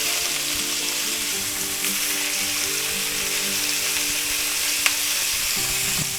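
Pork chops sizzle steadily in a hot pan just after being flipped, a continuous close frying hiss with small pops and one sharp crackle, with no voices.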